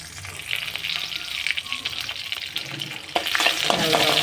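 Two dried red chillies and one green chilli are sautéed with curry leaves in a hot pan, making a close, busy sizzle with repeated spatula scrapes that grows louder toward the end.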